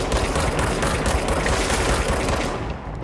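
Sustained, dense bursts of automatic gunfire from the video game Control, loud and continuous for about two and a half seconds before tailing off slightly, with no talk over it.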